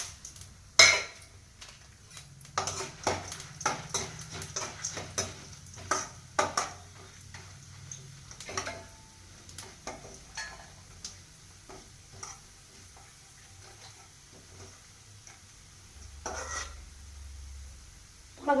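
Chillies fry and sizzle in a pan while a spoon stirs them, giving repeated scraping clinks and taps of metal over a soft, steady sizzle, close by.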